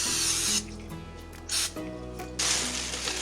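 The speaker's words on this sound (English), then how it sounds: "give a little spritz of the cooking spray." Three short hissing spritzes of cooking spray in a kitchen, close and fairly loud, with brief pauses between them over a low background hum.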